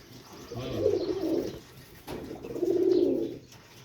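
High-flyer pigeons coo in two rounded, throaty bouts, each lasting about a second, close by with no talking.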